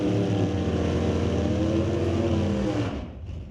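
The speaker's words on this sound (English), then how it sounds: "The Turbo LS powered Mercury Zephyr." A turbo LS-powered Mercury Zephyr drag car roars loudly at a Friday qualifying event, its engine holding a harsh, high-revving note for about three seconds before cutting off abruptly.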